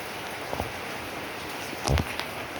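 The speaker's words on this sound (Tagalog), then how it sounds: "It's rainy." Steady rain falls outdoors after school, a soft continuous hiss of drops on surfaces at moderate distance, with a brief louder thump or rustle near the end.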